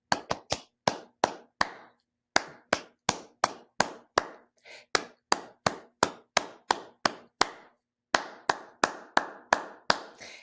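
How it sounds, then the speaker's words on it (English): Hands clap a rhythm in a classroom music lesson: sharp, close, dry claps in quick patterned groups with short pauses between phrases, and no talking. "And then they would keep clapping."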